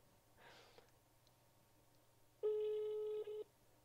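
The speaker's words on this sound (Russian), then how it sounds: "Вызываемый абонент не отвечает." A telephone call tone rings once, steady and fairly loud, against a quiet room with a faint earlier rustle, and the called party never answers.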